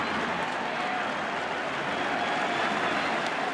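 A large stadium crowd at NLCS Game 6 in 2012 applauds Giants pitcher Vogelsong, a dense, steady roar of clapping and cheering that stays loud throughout.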